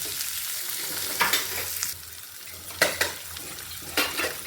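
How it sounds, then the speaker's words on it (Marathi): Finely chopped ivy gourd (tondli) stir-frying in a hot pan gives a steady sizzle, broken by several louder scraping bursts as the pieces are stirred, with no talk over it. "हे आता नुसतं बारीक चिरलेले तोंडले टाकून द्यायचे आता मस्त परतून घ्यायचे"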